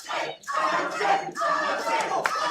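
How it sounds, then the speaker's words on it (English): A boxing crowd roaring and yelling in an arena during a round, loud and continuous with surging waves of cheering and some clapping, no distinct voices standing out. "Andres has the crowd here too going crazy"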